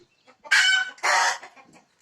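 A crested desi hen gives two loud, close clucking squawks in quick succession, then falls quiet.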